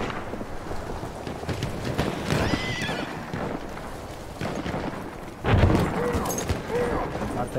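Horses in the World War I shooter Battlefield 1 whinny loudly while hooves pound in a galloping clip-clop, layered over a rumbling battlefield din that swells near the end.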